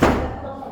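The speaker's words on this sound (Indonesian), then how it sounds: "Itu pintu namanya." A door slams shut with a single heavy, booming thud, close and loud, its low rumble decaying over under a second.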